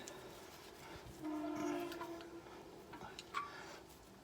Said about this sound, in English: Damn train again.